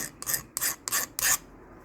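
Four short rasping strokes of a file deburring a small metal truss rod piece for a custom Stratocaster-style guitar, evenly spaced and close, with no talk.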